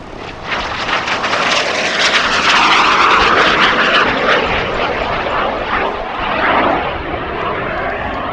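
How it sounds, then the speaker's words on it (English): SubSonex SX2 experimental personal mini jet flying at an air show, its engine a loud, rushing roar that swells as the jet passes close and then eases slightly while staying strong throughout. "This is an experimental personal jet. This is the SubSonex SX2."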